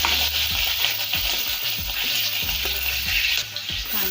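Cumin seeds and chilli fry in hot oil for a Schezwan frankie vegetable filling, giving a dense, bright hiss broken by quick, evenly spaced scraping stirs.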